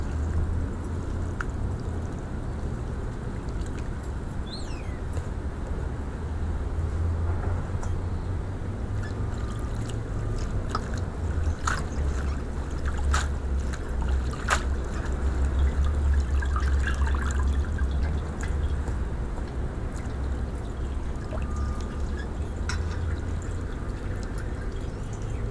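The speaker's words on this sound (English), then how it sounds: "So now I'm gonna take it out and drain it." Water pours and trickles steadily from food draining in a colander, a continuous close splashing flow with faint drips and clinks.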